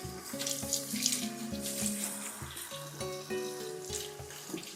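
Nettles are rinsed under a running kitchen tap, a steady close splash of water over the leaves, with clattering and shifting as they are handled, no talking.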